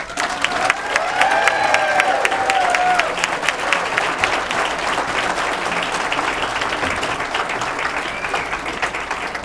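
Audience applause with some cheering fills a hall for a 2022 distinguished alumni Hall of Fame inductee, loud and continuous throughout, with a few whoops rising early on.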